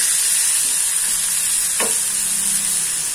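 Food cooks in a pan for matar poha, a steady close sizzle with a faint brief clink partway through.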